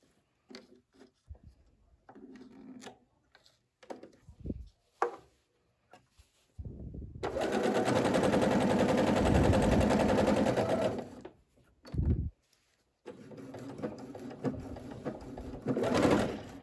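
A sewing machine stitches a zippered pillow cover, a fast even whirring run of several seconds after scattered clicks and handling noises, then a shorter burst of stitching near the end, close and fairly quiet.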